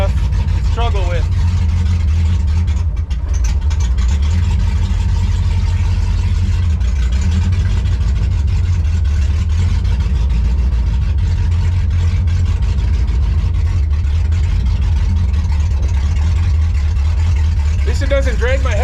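A pro street 1957 Chevy Sedan Delivery with mechanical fuel injection idles loudly and steadily, a deep rough rumble throughout, while someone talks over it.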